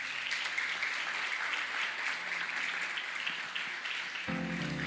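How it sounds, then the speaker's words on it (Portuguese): A church congregation claps together in sustained, dense applause at moderate distance, an even rush of many hands lasting several seconds, with a low musical tone entering near the end. "dá um aplauso a Jesus"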